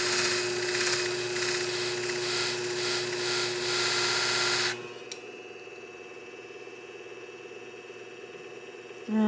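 Left-handed beauty shears have a blade sharpened on a grinding setup, a continuous pulsing abrasive whir that stops abruptly midway, leaving a quiet hum before a brief sound at the end.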